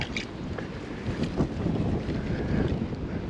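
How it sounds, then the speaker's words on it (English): Strong wind buffets a microphone on a mountain trail in a short, loud, rough rush with no clear gusts or breaks, and no voices. "Wind's really cooking, sorry about that."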